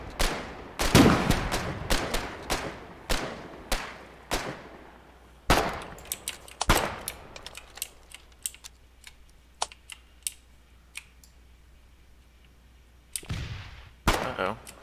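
Enemy gunfire in the war game Foxhole pops in sharp, scattered bursts, some loud and close, others faint and distant, mixed with steady clicking of a computer keyboard.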